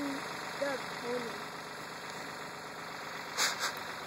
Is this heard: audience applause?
no